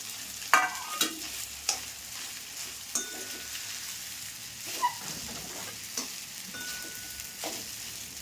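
Soaked sabudana tossed into hot oil in a kadai and stirred, the steady frying sizzle broken by sharp spatula clinks and scrapes against the pan every second or so, close up and with no voices.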